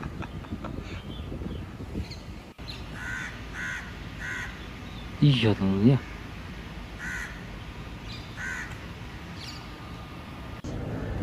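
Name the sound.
crows cawing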